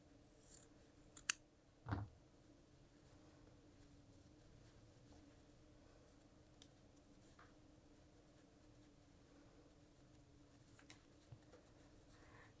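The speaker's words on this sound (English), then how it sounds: "trim off some of the excess" Scissors trim excess fabric from a quilted jacket hood. A few quiet, close snips come early, then a long stretch of faint handling noise.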